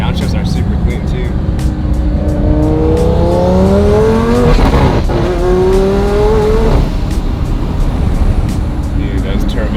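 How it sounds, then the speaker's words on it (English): A twin-turbo Audi R8 accelerates hard through the gears, engine pitch climbing in repeated rising sweeps with shifts between them, loud and close inside the car, with people talking over it. "those turbos are so beautiful sounding"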